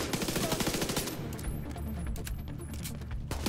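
MP5 submachine gun fire in The Division 2, rapid close automatic bursts that rattle loudly for about a second, then give way to a denser, steady clatter of gunfire and combat noise.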